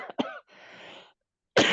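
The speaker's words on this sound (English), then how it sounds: "I'm going to cough for a second." A person on a call gives a few sharp, close coughs and a raspy throat-clearing, separated by short silences.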